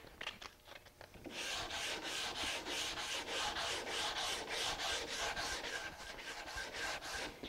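Brisk back-and-forth sanding of wood with 120-grit sandpaper on a rubber-padded wooden block, rhythmic raspy strokes repeating steadily after a few lighter rubs at the start.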